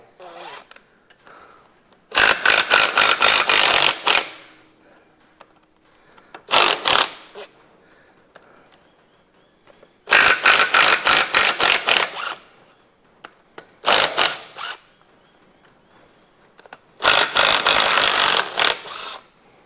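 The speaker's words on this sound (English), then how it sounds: "we'll just rattle the clamps off out of the way" A ratchet spins off the injector clamp nuts on a Massey Ferguson FE35 tractor engine in quick rattling bursts, five clicking runs separated by short pauses, close and loud.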